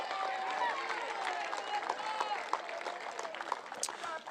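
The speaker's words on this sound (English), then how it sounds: "let's give them a round of applause" A crowd applauds at a youth sports gathering between Pittston Township and Plains teams, steady moderate clapping with cheers and scattered voices, heard from some distance.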